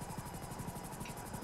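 A helicopter in a video game, its rotor giving a steady, rapid whomping chop over a dense engine roar that stays even and fairly loud throughout.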